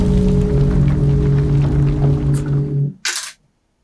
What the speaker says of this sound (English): we are going to show you how to tune your guitar, even if it sounds like this